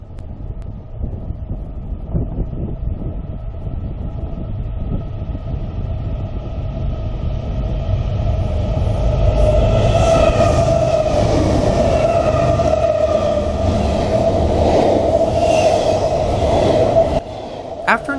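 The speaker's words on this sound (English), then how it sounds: "it got a unique shot of the intermodal train as it passed the grain train" An intermodal freight train rumbles steadily past nearby, growing louder with a low roar, clanking wheels and wind buffeting the microphone; no one talks.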